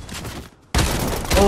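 A shotgun fires in a video game: a burst of loud gunfire, a brief gap, then another sharp blast, with an excited voice shouting over it.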